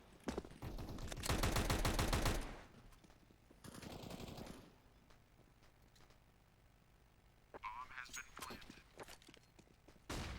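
Rapid gunfire bursts in a Counter-Strike esports match, including Desert Eagle shots, arriving in loud dense volleys separated by quieter stretches of footsteps and game ambience, with commentators talking.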